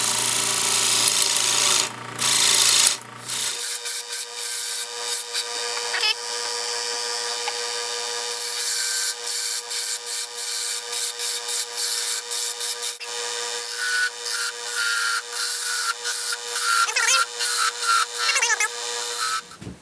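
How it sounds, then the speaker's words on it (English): Wood being cut into Christmas tree shapes on a lathe, a steady close scraping and whirring cut that runs almost without pause, with short breaks and bursts of rasping tool contact along the workpiece. "I will cut the base out and then cut the top of the tree and move on down the line."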